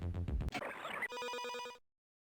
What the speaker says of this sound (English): we're going to dial up the video phone here.